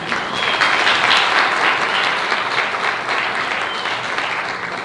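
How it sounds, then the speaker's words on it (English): Audience at a lecture series event applauds a guest invited onto the stage, a dense, steady burst of clapping from many hands filling the room at fairly close range for several seconds. "A round of applause for Aarti."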